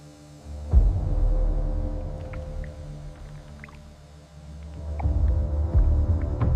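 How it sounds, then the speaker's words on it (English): Low, steady hum of vacuum evaporators with a throbbing pulse, swelling and easing, plus faint metallic clinks now and then in a large instant coffee factory. "vacuum evaporators gently remove water from coffee extract under reduced pressure"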